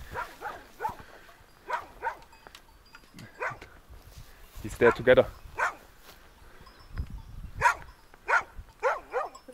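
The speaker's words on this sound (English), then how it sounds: "The dog is so scared that he completely ran away." A frightened dog on an Alpine hiking trail among goats barks in short, sharp bursts, some close and loud, with a few whimpers, while people talk over it.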